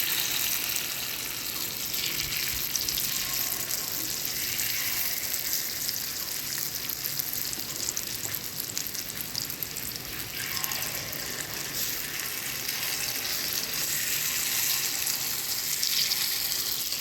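Ragi paddu batter frying in hot oil in a paddu pan, giving a steady, close sizzle and crackle that runs unbroken throughout with no voices.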